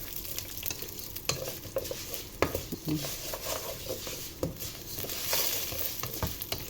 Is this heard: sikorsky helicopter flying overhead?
no